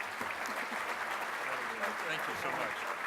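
Conference audience applause filling the room at steady strength, dense clapping throughout with some background voices under it.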